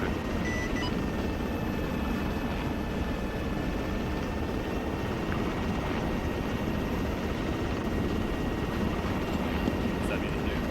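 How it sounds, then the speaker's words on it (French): A steady helicopter rumble from the video game ArmA 3 fills the background throughout, a constant mechanical drone with faint tonal hums, and no clear voices. "Jeff, si je reste dans l'hélicoptère, Calabrese, ils vont me sortir, hein?"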